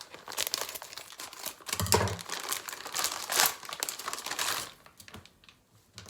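A sealed plastic baggie inside packaging is handled, giving close, irregular crinkles and crackles in short bursts that rise and fall, then trail off quietly.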